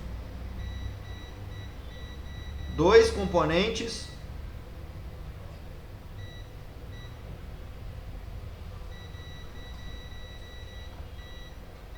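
A multimeter gives faint, steady high continuity beeps as its probes test components on a short-circuited circuit board. The tones sound in long stretches before and after a brief burst of speech.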